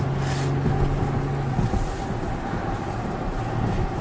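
A 2021 Acura TLX with all-wheel drive gives a steady, droning engine note from inside the cabin while driving, with a low tonal hum that holds and shifts slightly over road rumble.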